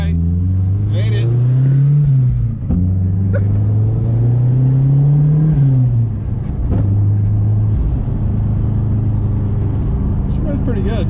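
A Fox Body Mustang SVO with a big-boost turbo engine heard from inside during a ride-along, droning loudly as it accelerates through gears with rising and falling pitch, people talking over the steady engine rumble.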